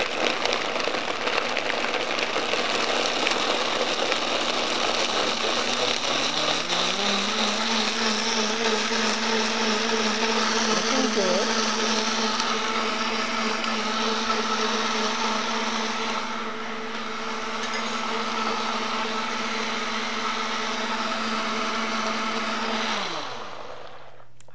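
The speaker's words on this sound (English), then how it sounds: "I'm going to start my Vitamix on a low so that it doesn't spurt out crazily." A Vitamix blender blending cashews, starting on a low setting: a loud, steady motor whir whose pitch steps up partway through, then runs evenly for over twenty seconds before cutting off, with no talking.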